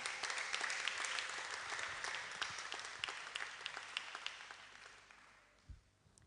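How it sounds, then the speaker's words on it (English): Audience clapping in a hall at an annual international pharmacy association gathering: dense, sustained applause from many hands that gradually thins and fades out near the end, with no speech over it. "please allow the applause as we're coming here"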